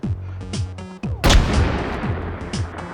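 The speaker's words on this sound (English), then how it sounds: "Now that is a shotgun, if I've ever seen one." A shotgun fires in the VR shooter H3VR, one loud booming blast with a long decaying tail, set amid rhythmic background game music, with no voices.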